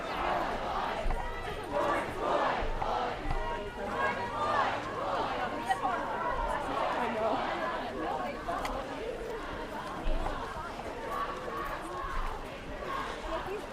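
A large crowd at a George Floyd protest march in Red Bank, with steady overlapping chatter and distant voices and footsteps filling the air throughout, fairly loud and continuous.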